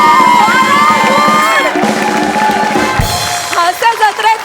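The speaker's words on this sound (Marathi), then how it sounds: "जोरदार टाळ्या" A studio audience at a Marathi comedy show cheers and whoops loudly, crowd noise swelling across the stage amid shouted voices.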